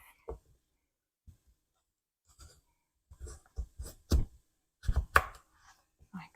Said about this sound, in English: But this big buddy, I'm going to cut in half.